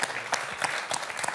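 A studio audience on a French game show applauds a champion with brief, dense clapping that rises and falls over a moment, fairly close and with no distinct talk.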